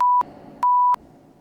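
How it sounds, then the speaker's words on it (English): Two steady electronic beeps from the horror dating game Sucker for Love, each tone about a third of a second long, separated by a short gap, loud and clean with no talk over them. "Beep beep."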